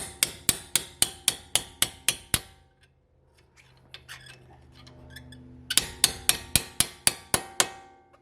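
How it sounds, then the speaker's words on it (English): Sharp hammer taps on a punch driving out a front brake pin on a 2009 Porsche Cayman 987.2: a steady run of about eight metallic strikes, a pause filled with faint clinks and handling, then another quick series of close, ringing taps. "So we're going to use a hammer and tap that in."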